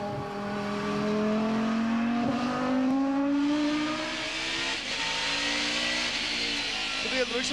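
An STCC touring race car engine on track, a loud rising engine note, then braking and downshifting with revving blips, while someone talks excitedly over it.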